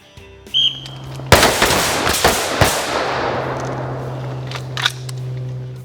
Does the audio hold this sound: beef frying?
no